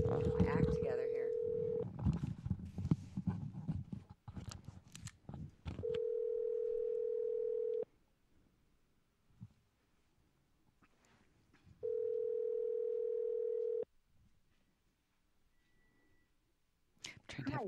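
An outgoing telephone call rings back with steady two-second tone bursts separated by pauses, the first tone partly under people talking, then repeating alone.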